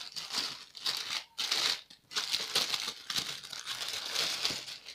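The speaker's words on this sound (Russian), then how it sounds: "Открываем первую посылочку." A plastic parcel package containing children's clothing is torn open, with steady crinkling and rustling of the plastic wrap close up, briefly pausing twice and then continuing throughout.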